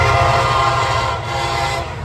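Freight train M558, running from Cincinnati to Willard, Ohio, and led by an SD70 locomotive, roars past close by with a loud, steady rumble and rail noise throughout.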